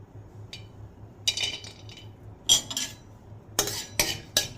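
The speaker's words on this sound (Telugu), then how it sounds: "ఇప్పుడు మనం ఫస్ట్ నెయ్యి వేసిన తర్వాత ఫస్ట్ డ్రై నట్స్ వేయించేసుకొని" Dry nuts fried in ghee in a pan, heard as a few short, separate bursts of a metal spoon scraping and clinking against the pan over a quiet background.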